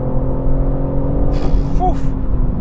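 A BMW M3 sports car engine drones with a steady harmonic hum, with a brief rising whine near the end, close and fairly loud.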